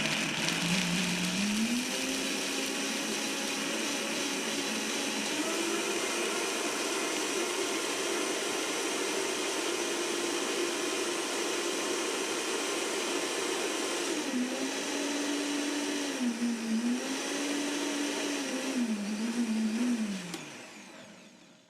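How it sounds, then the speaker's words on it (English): Blender whirring through cashew cheese, starting on its lowest setting and ramping up, a loud steady motor whine that rises and wavers in pitch for about twenty seconds before cutting off. "You may have noticed that I turn on the blender on the lowest setting and then I slowly ramp it up."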